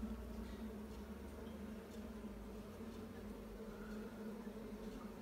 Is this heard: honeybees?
yes